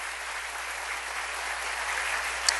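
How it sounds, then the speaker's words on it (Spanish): A church congregation gives a sustained round of applause, an even, moderately distant wash of clapping with no talk over it. "Denle un aplauso al Rey bendito."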